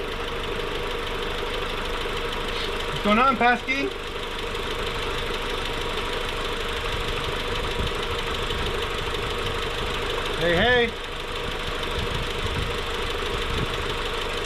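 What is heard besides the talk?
rebuilt Toyota Supra MK4 engine idling while warming up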